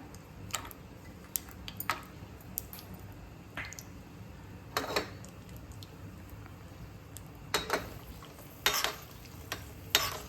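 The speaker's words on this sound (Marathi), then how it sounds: "काजू छान असा सोनेरी रंग येईपर्यंत फ्राय करून घ्यायचे तुपामध्ये" Cashews fry in ghee as a sweet offering is prepared, giving a faint, continuous sizzle broken by scattered crackles and the occasional clink of stirring.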